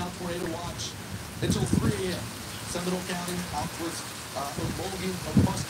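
Steady hiss of rain falling outdoors during a severe storm in Moore, Oklahoma, heard from a backyard beneath solar panels, with someone talking over it throughout.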